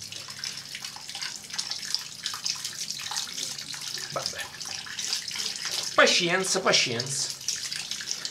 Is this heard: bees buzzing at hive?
no